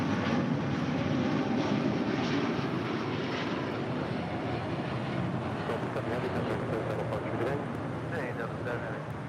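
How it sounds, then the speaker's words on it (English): A Delta Airlines Airbus A330neo jet taking off from LAX, a broad roaring engine rumble heard from a distance that stays loud and steady, with light wind noise over the microphone. "That is Delta Airlines Flight 7 Heavy departing to Tokyo Haneda on the Airbus A330neo"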